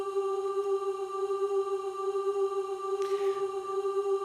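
A steady sustained 396 Hz tone at G4, a Solfeggio-scale pitch, held evenly with layered harmonics throughout, with a brief soft noise burst near the end.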